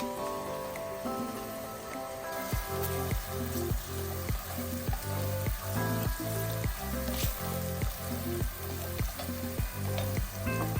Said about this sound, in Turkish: Böyle salçayla da kavuruyorum iyice.